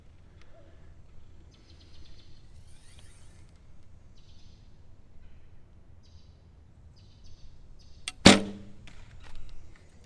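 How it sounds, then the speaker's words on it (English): An arrow looses from a bow fitted with a WIAWIS ACS-LX stabilizer, giving one sharp, loud snap near the end followed by a quieter thump. Faint birdsong chirps in the background beforehand. "I'm gonna shoot a couple more arrows here with this one"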